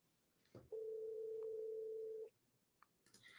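A single steady telephone tone sounds once for about one and a half seconds during an outgoing phone call. It is clear and isolated against a quiet background.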